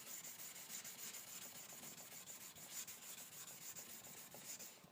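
Steady, faint rasping strokes of a Chartermade knife edge sliding across a 6000 grit whetstone worked with slurry, a continuous gritty rubbing with no voices.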